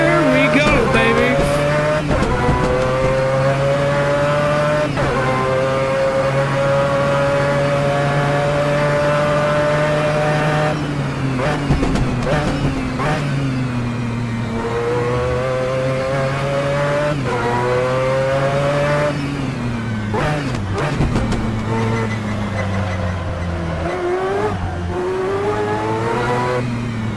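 Mazda 787B race car engine in a racing game, a high, harmonic rotary wail climbing through the gears in long sweeps with brief dips at shifts, loud and continuous with tire squeals.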